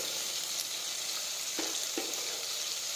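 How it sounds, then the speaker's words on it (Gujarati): Mixed vegetables sizzle and fry steadily in a pan, with a couple of brief scraping stirs breaking through the constant hiss. "હવે આપણે આ રીતે મિક્સ કરી દઈશું."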